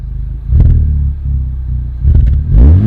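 A Honda FL5 fitted with a Spoon Sports N1 exhaust on the factory downpipe revs loudly in two deep bursts, with a sustained low rumble between them and a rising roar at the end.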